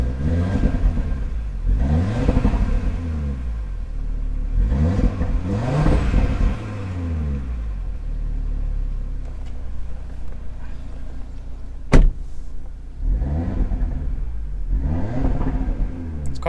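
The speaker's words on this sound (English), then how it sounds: "Just to hear what it sounds like inside the car." Interior engine sound of a 2018 Audi RS3, loud repeated revving sweeps that rise and fall in bursts with steady rumble between them and a sharp click partway through, heard from the driver's seat.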